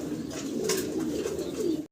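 Pigeons at a breeding farm coo softly up close in a short, throaty, rolling burst that stops abruptly.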